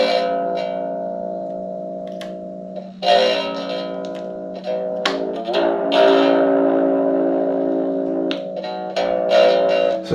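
A Telecaster electric guitar through a small, inexpensive amp plays distorted strummed chords and single notes with sharp attacks and ringing sustain, loud and alone.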